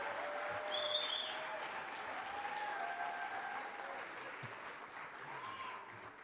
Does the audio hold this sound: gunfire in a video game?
no